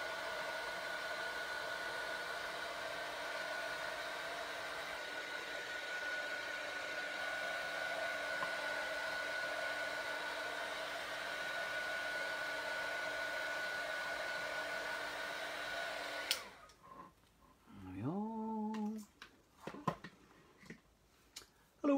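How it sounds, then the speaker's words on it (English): Hair dryer drying alcohol ink artwork on a tree scene, a steady close whirring hum that runs for about sixteen seconds and then cuts off abruptly, followed by faint rustling and brief sounds. "give that a quick dry, just to make sure that I don't put my fingers in it and make a mess."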